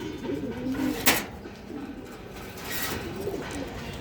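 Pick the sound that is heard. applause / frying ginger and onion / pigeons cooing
pigeons cooing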